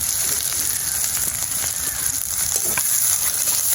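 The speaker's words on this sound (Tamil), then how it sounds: "கறி மிளகாய் கிண்டுங்கம்மா அப்படியே" Curry chillies frying in a pan while being stirred for Jaffna-style egg kothu roti at home, giving a steady, loud, dense sizzle with scattered clicks of the utensil throughout.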